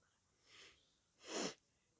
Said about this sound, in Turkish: Burnum tıkalı biraz da arkadaşlar ondan burnumu çekiyorum.